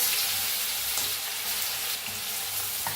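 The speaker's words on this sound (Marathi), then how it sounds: "तेल चांगलं तापलंय आपलं आता ह्याच्यात घालूया मोहरी एक चमचा मोहरी घातल्या तर एक चमचा जिरं घालूया" Mustard seeds, cumin, asafoetida and ground garlic sizzle in hot oil for kadhi, a dense continuous hiss that sounds almost like running water, close and steady with no voices.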